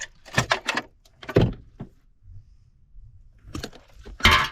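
On a 1993 Ford Mustang 5.0 police car, the trunk release fires with a few sharp mechanical clunks and latch clicks, close by, separated by a quiet stretch with faint low hum.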